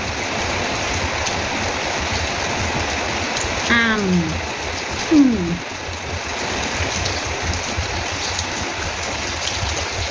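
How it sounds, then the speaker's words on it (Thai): Steady rain falls outdoors as a loud, continuous hiss that fills the whole stretch, while a voice briefly sounds over it midway. "กินแข่งกับเสียงฝนค่ะทุกคน"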